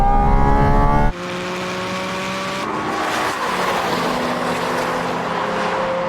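Cars including a Golf R accelerate hard in a drag race, with a loud close engine roar at first, then a sudden drop to a steadier rising engine drone that climbs through the gears.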